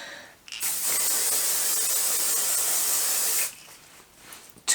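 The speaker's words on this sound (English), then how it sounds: "Let's spray a little bit of this one." A makeup fixing mist sprays onto a face in one continuous hissing burst of about three seconds, close and loud, with quiet handling noise before and after.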